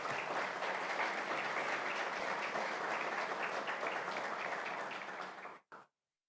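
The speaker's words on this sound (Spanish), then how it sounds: "Por favor, un aplauso para la trayectoria de estos dos doctores" An audience at a book launch for law professors applauds in a dense, steady wash of clapping that holds for over five seconds, then cuts off abruptly.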